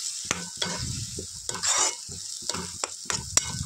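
Masala paste stirred and frying in a pan for a chicken curry, with a steady sizzle broken by repeated scraping strokes of a spoon against the pan, close and moderately loud, with no voices.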